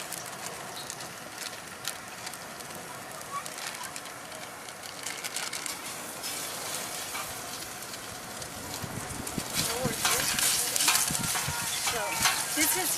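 Mild Italian sausage sizzling in a paella pan, a dense steady crackle and hiss that swells louder toward the end as it is stirred, close and continuous without talk.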